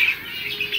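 Pet birds in a breeding cage give several close, loud chirps in quick succession over a busy background, with a hint of wing movement.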